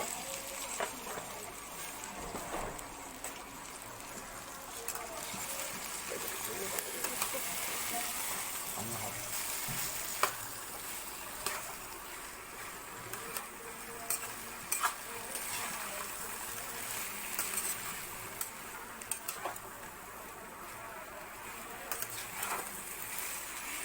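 Boiled green jackfruit stir-fries with a little sugar in a pan, a soft, continuous sizzle broken by scraping and clinking from the spatula, faint and even throughout.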